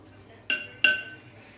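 Two crisp clinks of a metal spoon against a bowl while dropping cheese pancake (syrniki) dough, spaced about a third of a second apart, close and clear over a quiet room.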